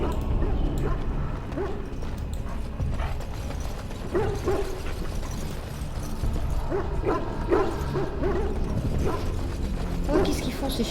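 Locked-up dogs in the fantasy game Dragon Age: Origins bark and whimper in repeated bursts, with mechanical clanking and someone speaking over the scene.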